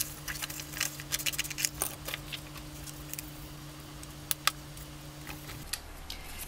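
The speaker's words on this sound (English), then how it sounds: "So I will just cut out a piece." Scissors snip out a piece of paper for a junk journal, giving a string of quiet, irregular ticking cuts close by, with a low steady hum running underneath until near the end.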